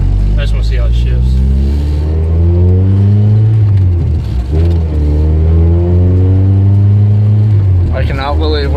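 A Honda Prelude with a Euro R engine swap, heard from inside as it accelerates hard, rising through the revs, dropping on each gear change, then climbing again, loud and close, with voices over it.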